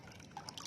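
Water draining out through freshly mixed succulent potting media right after watering, heard as faint, quiet drips and trickles in a short burst with no talking.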